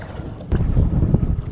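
Strong wind buffets the microphone out on the water during kayak fishing, making a low, rumbling roar with gusty surges and a sharp knock partway through.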